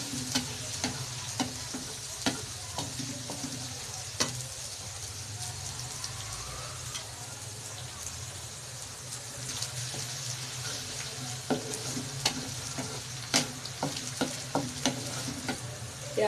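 Onions frying with garlic-ginger paste in a pan for kadhi pakora, a steady soft sizzle broken by occasional scrapes and clinks of a stirring spoon, close and fairly quiet with no talk.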